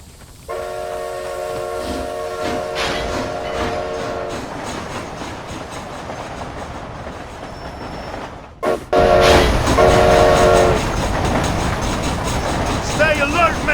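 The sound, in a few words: train in Red Dead Redemption: Undead Nightmare, video game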